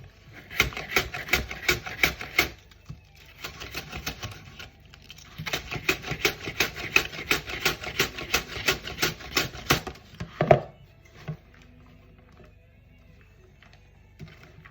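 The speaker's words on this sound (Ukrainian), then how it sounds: "Зараз я капусточку буду шинкувати." Rapid rhythmic chopping of a knife through cabbage on a board, close and crisp, in several bursts with short pauses between.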